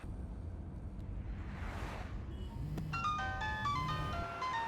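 A mobile phone rings inside a moving car, its melodic electronic tone starting partway through as a bright repeating tune over a low engine rumble, following a brief whoosh.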